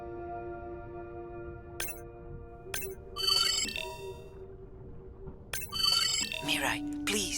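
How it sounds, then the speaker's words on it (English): A low power alarm in the video game Beyond Blue rings out as repeated bright electronic tones over a steady synth drone, close and clear with several bursts. "Low power alarm."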